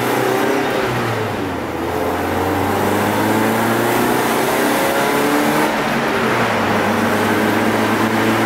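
A Toyota Corolla drift car's engine pulls hard in second gear, a loud, sustained droning rev that climbs steadily, heard from inside the car.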